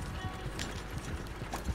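Horse hooves clip-clop in the Red Dead Online game world, a quick irregular run of soft thuds at mid distance over faint ambient background, with no voices.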